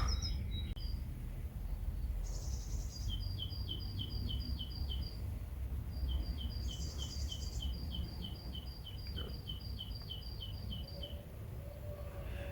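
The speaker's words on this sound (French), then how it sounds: "Les oiseaux n'arrêtent pas." Birds sing repeatedly in a garden, bursts of bright, rhythmic chirping notes in repeated phrases over a steady background hum, with no one talking.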